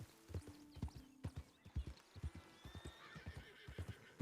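Video game rhythmic hoofbeats clip-clop steadily at a walking pace, close and clear, while a horse gives a brief whinny partway through.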